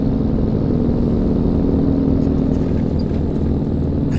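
Truck engine in American Truck Simulator while hauling a Volvo excavator, a loud, steady, deep diesel drone with a rumbling low hum that holds constant throughout, with no talk over it.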